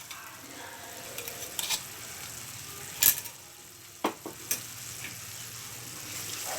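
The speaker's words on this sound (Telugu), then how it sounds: "ఈ టైంలో మనం ఇందాక గ్రైండ్ చేసి పెట్టుకున్న ఈ పేస్ట్ని వేసుకుని మనం కలుపుకోవాలండి." Chicken being stirred with a ground spice paste for Andhra-style chicken pickle: soft sizzling under scattered spoon scrapes and clacks against the pan, a few sharper knocks standing out, fairly close and moderately quiet.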